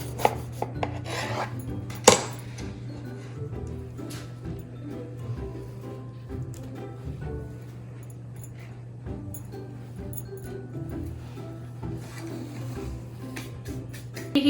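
A knife slices through a baked rusk cake, giving repeated dry scraping and crunching strokes close by, steady through the cut with a sharper knock near the start.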